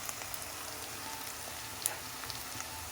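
Onion and egg frying together in a pan give a soft, steady sizzle with small scattered crackles and one brighter pop, all fairly faint with no talking.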